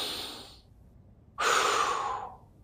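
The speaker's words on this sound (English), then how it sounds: "Expand the right side, exhale through the left side." A person breathing during a slow breathing exercise: a soft, fading breath, a short silence, then a strong, close, airy exhale lasting about a second.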